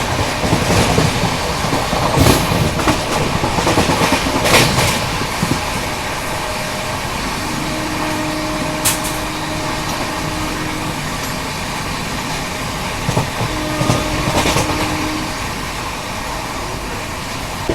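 The Sampark Kranti Express rolls along on its rails with a steady loud rumble and roar, broken by occasional clacks and thumps from the wheels over joints, and no talk.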